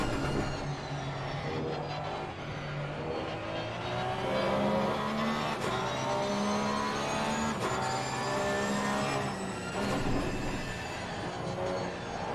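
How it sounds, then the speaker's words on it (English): A flat-six GT3 race car engine in a sim racing game at Monza, a continuous droning roar with rising and falling revs as gears shift, steady and moderately loud with other cars faintly blending in. "Flat 6 engine."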